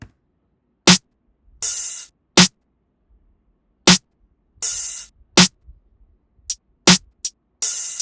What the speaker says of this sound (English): Added this hi-hat.